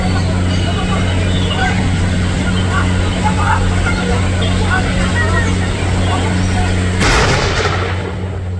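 A firecracker is thrown to drive a wild tusker elephant from a banana plantation in Kerala. One sharp, loud bang bursts out near the end over a steady droning background, with a voice talking throughout.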